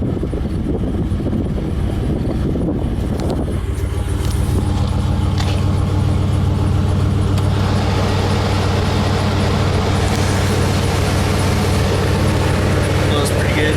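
A vintage truck's 5.3 engine idles steadily with its factory A/C compressor engaged, a continuous low mechanical hum that thickens after a few seconds as the compressor kicks in, with a faint fan-like hiss rising later.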